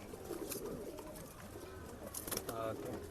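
A domestic pigeon coos softly at a breeder's loft in Bangalore, low murmuring calls near and faint, with some background noise.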